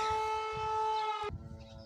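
A civil defense air raid siren sounds during potato hilling in a rural garden, a steady loud wailing tone that drops off abruptly partway through, leaving a faint residual hum.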